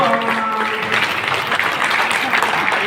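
An audience at an indoor business presentation claps its hands in a dense, continuous round of applause, with a voice briefly audible near the start.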